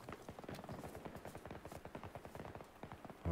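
Rapid bursts of video game gunfire crackle in a dense, uneven stream of quick shots, fairly faint and distant.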